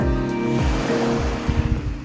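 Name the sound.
ocean waves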